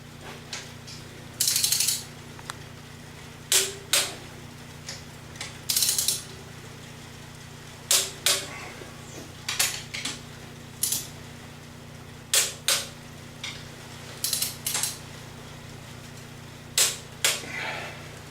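A torque wrench ratchets on cast iron cylinder head bolts of a hot rod Ford, sounding as sharp, close clicks in short repeated bursts over a steady low hum, with no one speaking.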